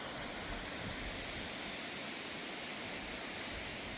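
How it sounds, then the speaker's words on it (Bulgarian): A mountain stream flows down from the Rayskoto Praskalo waterfall with a steady, dense rushing hiss, constant and fairly loud throughout, with no voices or other sounds. "Ето я рекичката, която слиза от Параскалото."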